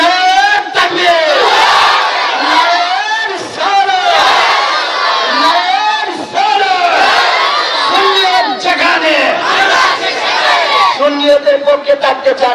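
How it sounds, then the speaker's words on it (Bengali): Large religious gathering roaring a takbir chant in unison, loud and sustained throughout, with repeated rising shouted waves from many voices close and filling the space. "হাত তুলেন, একটা তাকবীর লাগান, নারায়ে তাকবীর"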